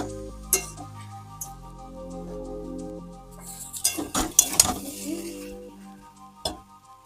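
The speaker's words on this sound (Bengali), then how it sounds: "এবার ভালো করে আমরা সবগুলোকে মিক্স করে ভেজে নেব" A vegetable mixture for vegetable chops being stirred and fried in a pan, with a short cluster of loud scraping and clattering from the spoon against the metal over soft background music.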